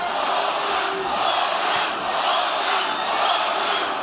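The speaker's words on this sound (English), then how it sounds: "The crowd support this early in a Loma fight is almost unlike anything we've ever heard before" Boxing arena crowd roaring for Vasiliy Lomachenko early in his fight with Jamaine Ortiz: a dense, sustained wall of cheering and chanting from a large audience, steady and loud with no break.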